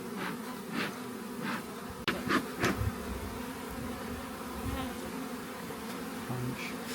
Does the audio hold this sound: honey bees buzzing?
yes